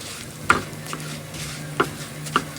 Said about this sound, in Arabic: بفضل اقلب كده علشان ما يبقاش فوق في ابيض ومن تحت تسود